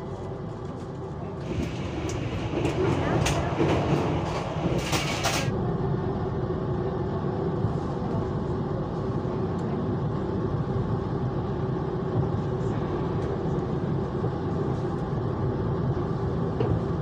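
KA Jayakarta passenger train leaving Kutoarjo station at night, bound next for Gombong: a steady, loud rolling rumble that continues throughout, with a brighter hissing surge early on before settling back into a constant drone.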